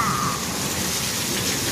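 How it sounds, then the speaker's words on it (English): Rain falling just outside an open door, a steady dense patter that is fairly loud and continuous, with a faint voice at the start. "Look, it's raining."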